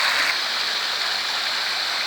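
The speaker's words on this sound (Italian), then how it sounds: "questo rumore dell'acqua, questo zampillio." Fountain of water jets in piazza Garibaldi in Gemona del Friuli, a close, steady hiss and patter of splashing water without pause.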